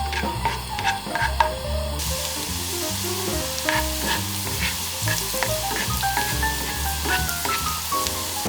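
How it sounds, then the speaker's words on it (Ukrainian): Chopped garlic sizzles steadily in hot oil in a pan on moderate heat, a loud, close frying crackle accompanied by occasional stirring scrapes and clinks, with no talk. "Висипаємо нарізаний часник, трохи його обсмажити."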